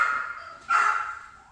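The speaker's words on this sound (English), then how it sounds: "The dogs get all excited when I turn the lights off because they think it's bedtime." Dogs bark indoors in excitement after a room's bright ring lights are switched off, two close, loud bursts of yapping separated by a brief pause, with no talking.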